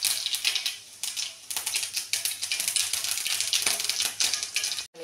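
Cumin and mustard seeds crackle in hot oil with dense, rapid popping and spitting that runs loud and close throughout, with brief gaps in the crackle.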